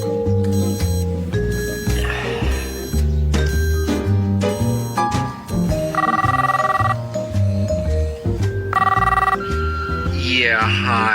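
An office telephone in the 1999 film Office Space rings again and again in a steady pattern of bursts, close and loud, with electronic tones in between and no voices over it.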